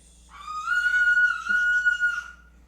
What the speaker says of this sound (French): on peut entendre ma fille qui crie en arrière-plan